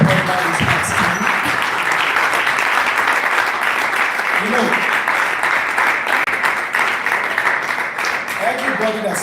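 Sustained applause from an audience at a university entrepreneurial summit in Benin, dense and steady throughout, with a few voices briefly audible beneath the clapping.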